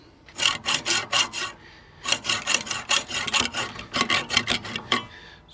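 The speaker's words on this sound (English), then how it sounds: "more sawing." Hand sawing, with the blade rasping through in quick, steady back-and-forth strokes. The strokes come in three close bursts of about five each, separated by short pauses. The sound is close and fairly loud, with no talking.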